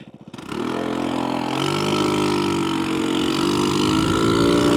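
A scooter engine idles steadily and loud up close, a continuous buzzing drone that starts after a brief sputter and holds an even tone throughout.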